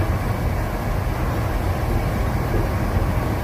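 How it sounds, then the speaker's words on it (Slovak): An IC/EC passenger train running between Mürzzuschlag and Vienna, heard from the rear car as a steady, loud rolling rumble and broad wheel-on-rail roar that holds constant throughout. "Tu náš vlak pôjde to rýchlosť 120 a potom ďalej aj 160."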